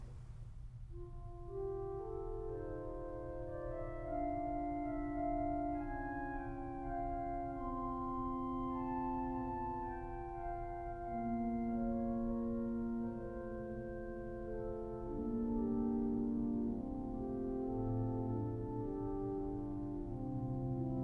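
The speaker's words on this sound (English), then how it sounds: "There's a wonderful flute called Melodia, which sounds like this." The Melodia flute stop on the choir manual of a 1906 Felgemacher pipe organ plays a soft, mellow melody over sustained lower notes, gentle flowing phrases with a steady low drone beneath, no voices.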